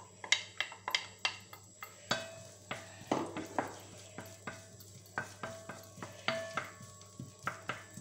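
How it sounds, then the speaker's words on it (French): Sliced onion stirred in a hot pan for homemade paella, steady soft sizzle under repeated sharp scrapes and taps of a utensil against the pan, close and fairly quiet. "Ensuite, on va mettre notre oignon que nous avons émincé."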